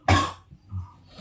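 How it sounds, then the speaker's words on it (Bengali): A single sharp, loud cough bursts out at close range, followed by a softer throaty rasp and faint low murmuring afterward, all in a domestic home setting. "হুপিং কাশি হবে তো আরো।"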